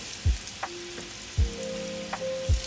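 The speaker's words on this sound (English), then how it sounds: "the pork and I'm going to put them in here, and I'm going to sear it" Pork loin sears on medium-high heat in a pan, giving a steady sizzle. Three dull knocks of the pan and a faint ringing tone sit on top of it, with no talk.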